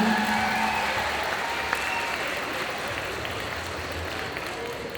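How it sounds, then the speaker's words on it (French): Audience at a cosplay contest at a geek festival in Bordeaux bursts into loud, sustained applause that carries on steadily, with a crowd murmur beneath it. "les applaudissements bien fort s'il vous plaît"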